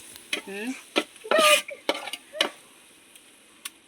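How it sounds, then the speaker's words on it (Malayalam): A spoon stirs and mixes a curd mixture in a bowl, a handful of short scraping and clinking strokes spaced irregularly, fairly quiet and close. "എന്നിട്ട് നല്ലപോലെ മിക്സ് ചെയ്യാം."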